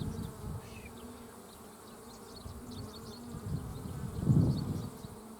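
Honey bees buzzing inside a well-populated, balanced beehive, a continuous close drone that swells louder near the end, with no talk.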